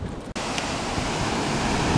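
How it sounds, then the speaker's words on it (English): Atlantic Ocean surf rushes steadily and loudly, a broad continuous wash of waves mixed with wind buffeting the microphone, broken by a brief dropout near the start. "here we are, the Atlantic Ocean"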